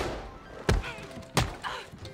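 Two sharp, heavy punches land about two-thirds of a second apart during a fist fight in the video game Red Dead Redemption 2, each a loud, close thud. A softer impact follows them.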